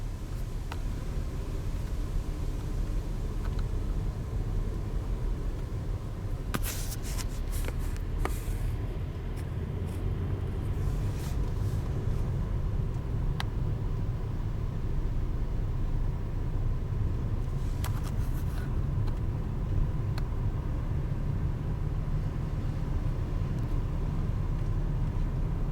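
A car drives along the Sooke road with a steady low rumble of engine and tire noise throughout, broken by a few brief knocks and clicks inside the cabin.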